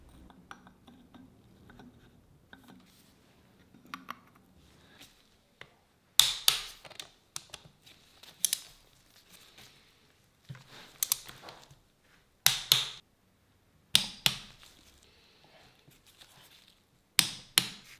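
Metal parts clink and tap as reed valves are fitted onto the barrel of a barn-find 1991 Honda CR125 two-stroke dirt bike engine, with a string of sharp, close knocks in the second half after a quiet start.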